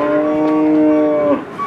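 An angry cow that had just wrecked a parked motorbike lets out one long, loud, close moo lasting over a second before it breaks off abruptly, outdoors.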